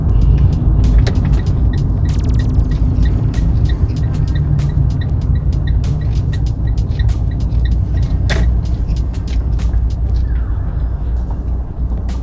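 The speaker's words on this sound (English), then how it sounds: "Every time you apply your handbrake, you're ratcheting" A car pulls up on the right during a mock driving test, and its handbrake is ratcheted on with a quick burst of clicks over a steady, loud engine rumble and road hum.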